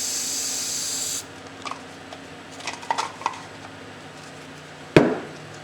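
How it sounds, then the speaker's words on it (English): An aerosol can of hairspray releases one steady hiss lasting about a second. Faint clinks and a sharp knock follow. "Spray out some"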